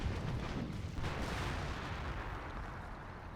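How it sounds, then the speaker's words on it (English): Anti-tank guns trading fire in the Company of Heroes video game, a dense, continuous wash of rumbling booms and gunfire heard at a steady, loud level with no talk over it. "Anti-tank guns just dueling here."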